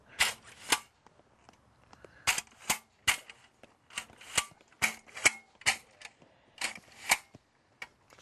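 Staples are hammered into hard, rocky ground during a rifle race, giving a rapid, irregular run of sharp, close metallic whacks and taps with short gaps between blows.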